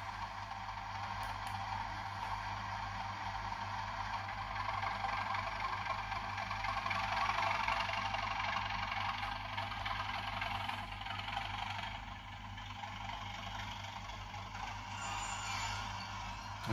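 A Bachmann Class 37 model locomotive's sound unit plays a diesel engine pulling away, a low, steady throbbing rumble that builds gently and holds for many seconds, quiet and alone.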